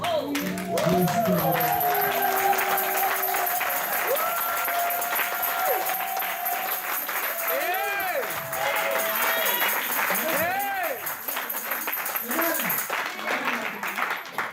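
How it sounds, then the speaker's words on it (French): A church congregation claps steadily for the Lord, with whoops, ululating voices and shouted praise rising over the sustained applause throughout. "Nous allons nous lever pour acclamer vraiment le Seigneur."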